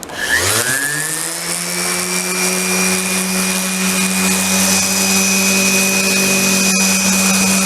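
A power sander whirs steadily and loudly against a wooden cork board frame, starting up in the first half-second and then holding a constant tonal drone with a brief click near the end, no voices.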